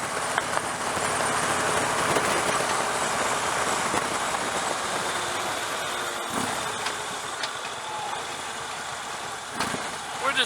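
Motorcycles riding along a backcountry road, a steady, loud engine drone blended with constant wind rush that carries through the whole stretch without a break.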